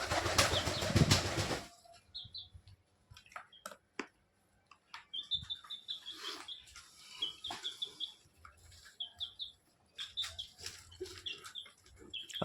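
Green parrots bathing in water, with a loud burst of flapping wings and splashing at the start, then scattered short chirps and light fluttering close by.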